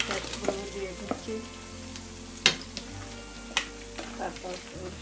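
Ginger garlic paste frying in a pan for a mixed vegetable dish with liver and wings, a bright steady sizzle punctuated by sharp spatula clinks and scrapes, close up with a low hum underneath.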